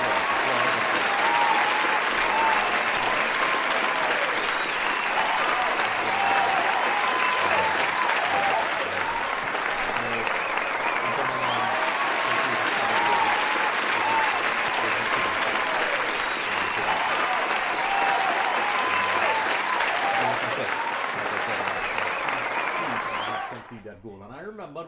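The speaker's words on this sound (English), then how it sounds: "Let's hear some applause." Dense, sustained applause from a crowd during a football watch-along of Benfica versus Inter Milan, greeting an Inter goal. It holds loud and steady for about twenty-four seconds, then cuts off abruptly.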